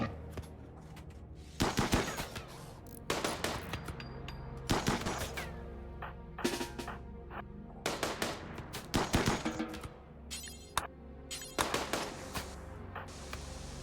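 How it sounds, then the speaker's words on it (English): Bursts of rapid gunfire in the video game RimWorld crackle in repeated volleys, loud and close, with short pauses between sprays of shots. "All this gunfire has assuredly attracted a crowd."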